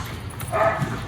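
A dog named Whiskey, being introduced to other dogs at a hostel, lets out a brief low growl with a short whine, close by against a noisy background.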